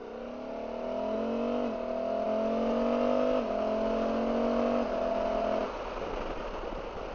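A 2024 Honda Africa Twin motorcycle engine of about 100 horsepower accelerates hard, its whine rising in pitch and dropping at each of several gear shifts before easing off near the end; loud and close, with no talking.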